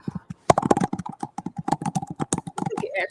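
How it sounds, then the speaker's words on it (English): Someone types quickly on a computer keyboard nearby, making a dense, uneven run of crisp key clicks with a few louder strikes and no pauses. "over there typing away"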